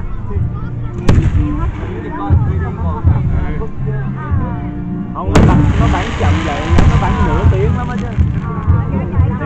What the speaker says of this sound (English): I mean they're fireworks